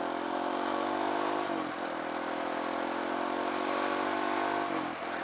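A Kawasaki KLX170 dirt bike, a rebuilt big-bore KLX140, accelerates on a break-in ride with a steady buzzing engine note, pitch climbing and dipping briefly at two gear changes.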